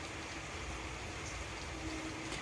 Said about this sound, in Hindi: आज भी पूरा फुल बारिश हो रही है।